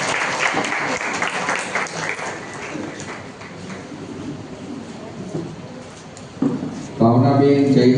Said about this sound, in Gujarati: વિદ્યાર્થીઓને તાળીઓથી પ્રોત્સાહિત કરશું